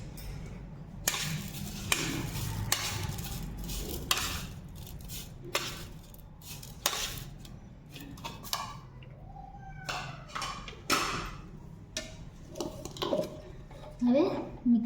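Spoon stirring strawberry milkshake ingredients in a home kitchen, with clinking taps against a vessel, irregular scraping and knocks close up, mixed with intermittent talking.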